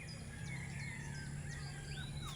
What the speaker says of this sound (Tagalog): Marami kang ibon na maririnig.